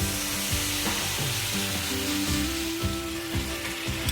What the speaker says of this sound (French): On va déglacer avec notre vin blanc.